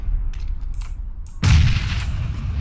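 A gunshot rings out in the battle-royale video game PUBG, a sudden sharp blast with a booming tail, preceded by faint scattered distant clicks and shots.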